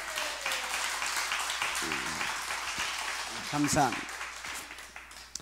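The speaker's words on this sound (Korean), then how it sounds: "우리 경기도민 여러분, 서울시민 특별시민을 박수 한번 쳐주세요." A church congregation at an evening revival meeting applauds moderately, with the clapping running under someone speaking Korean throughout.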